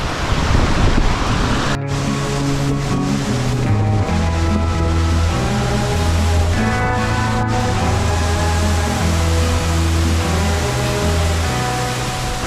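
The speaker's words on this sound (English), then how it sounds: "That's got to be one of the best waterfalls I've seen." A waterfall in the Scottish Highlands roars as a loud, steady rush of falling water, with a faint low hum beneath it that lasts the whole time.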